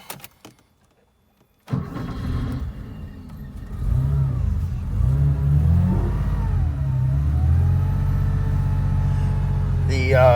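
A 1980 Porsche 911SC with an air-cooled engine is started cold after sitting about a week. Near silence gives way to cranking, then the engine catches and revs up before settling into a loud, steady, slightly fluctuating idle.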